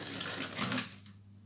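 Tap water running steadily and fairly loud into an empty plastic bottle holding lemon for lemon water, then tapering off to a quieter trickle near the end, with no talking.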